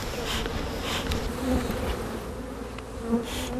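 Bees buzz steadily at the main colony of a rural Kangaroo Island apiary, a dense close hum with a few louder passes of individual bees, no voices.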